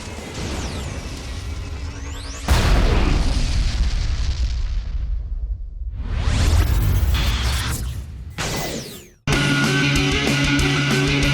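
A cartoon energy weapon, the Zeta Blaster, fires a single shot, with a loud booming blast and whooshing roar that swells, cuts off abruptly, then gives way to another loud burst over a busy, dense soundtrack.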